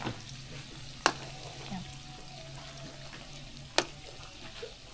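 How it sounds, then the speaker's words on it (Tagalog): Turon frying in oil, a soft steady sizzle at low level with two sharp clacks of a utensil against the pan and no voices. "habang nagpiprito po si Den ng turon"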